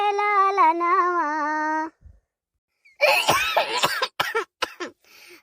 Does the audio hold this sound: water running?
no